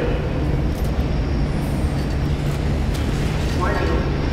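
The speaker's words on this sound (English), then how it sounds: "Tram entering confined space. Exercise extreme caution." A tram in the game F.E.A.R. 2 rolls along with a loud, continuous rumbling drone and a steady low hum, with no distinct clatter standing out.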